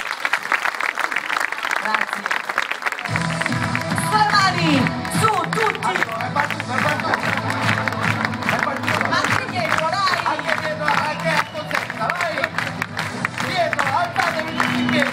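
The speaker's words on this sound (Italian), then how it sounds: "Applausi." A concert audience applauds and cheers loudly and steadily throughout, with a dense crowd clap texture, while a voice speaks over it and music begins underneath partway through.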